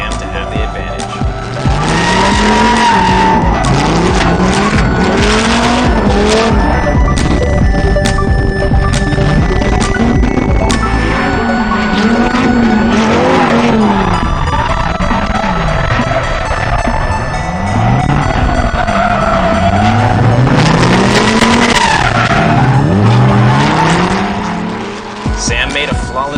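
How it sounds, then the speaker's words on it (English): Drift cars compete in tandem, engines revving and rising and falling in pitch with squealing tires, loud and close for most of the stretch, with a narrator talking over the action. "Though his entry in JR's car was impressive, Calvin spun at a clipping point"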